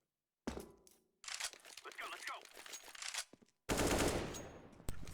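Gunfire from the video game Counter-Strike: Global Offensive, loud bursts of shots that break off and return in a dense final volley, heard with people talking over much of it.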